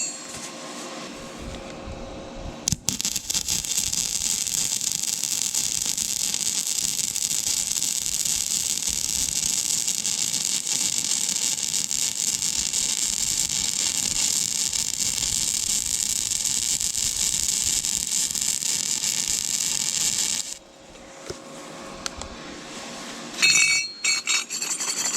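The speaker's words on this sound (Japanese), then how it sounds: "200ボルトで、さっきのね、この反対側ね、こっちをね、溶接してみたいと思います" A Suzukid Buddy140 gasless semi-automatic welder running at 200 volts, laying a bead in one continuous, harsh, steady buzzing crackle of about eighteen seconds, close and loud, with quieter handling clicks before and after and no speech.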